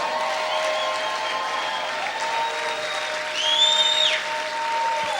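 A church congregation applauds during a sermon, with steady broadband clapping and tonal voices or whistles riding over it, one brighter cry rising near the end.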